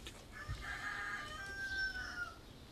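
Chickens cluck and call nearby with drawn-out rising squawks like a rooster crow, fairly faint over a quiet outdoor background, with no talk.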